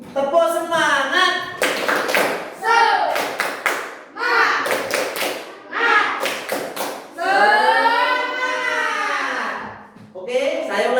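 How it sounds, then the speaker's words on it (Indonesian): A school class performs the rhythmic tepuk semangat spirit clap, with groups of quick claps alternating with voices chanting in unison, loud and close, the claps forming short patterned bursts between the chanted phrases. "Tepuk semangat."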